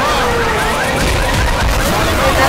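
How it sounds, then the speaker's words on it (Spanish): In the zombie shooter game Left 4 Dead 2, a car alarm set off by a player standing on the vehicle wails loudly and continuously, its warbling tones rising and falling over dense game noise. "¡Me paré encima del auto con alarma!"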